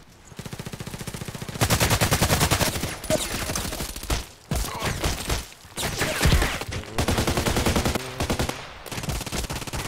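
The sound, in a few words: gunfire in the video game Contract Wars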